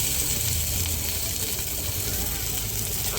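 Chopped tomatoes drop into a sizzling onion-garlic masala in a pan while cooking okra, giving a continuous close frying hiss.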